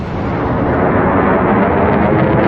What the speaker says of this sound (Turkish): O da F-16'ların yaptığı ses patlaması.